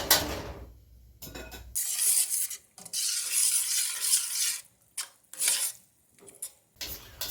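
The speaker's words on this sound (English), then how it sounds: "we're going to continue simmering on low heat just until it slightly thickens" Onion sauce for New York style hot dogs simmers in a pot over low heat, heard as soft bursts of bubbling and stirring with spoon scrapes against the pan, broken by short silences.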